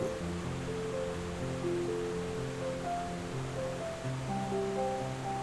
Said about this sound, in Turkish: bu şelale yaklaşık 10 metre yükseklikten dökülüyor